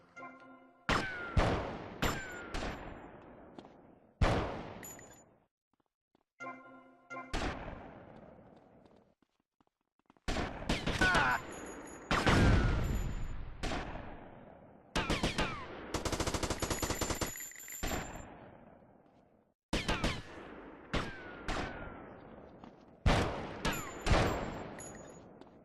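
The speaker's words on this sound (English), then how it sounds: "Would you fucking stop shooting the ceiling" Gunfire in GTA Vice City comes in loud bursts of rapid automatic shots and single cracks, separated by short silences, each burst ringing off into a brief decay.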